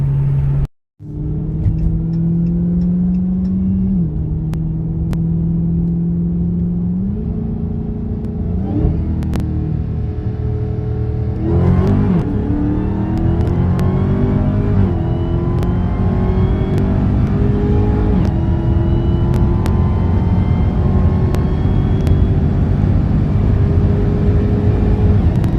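A Dodge Charger Redeye or Hellcat accelerates hard through a 60-130 run, its supercharged engine loud and close. It begins with a brief cut, then a sustained rising roar with stepped gear shifts as the pitch climbs and drops repeatedly.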